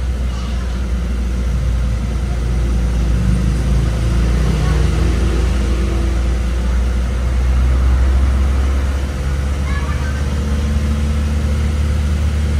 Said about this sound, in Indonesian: Ini coba kita tahan gas di angka 2000, kita lihat temperaturnya mau naik apa enggak.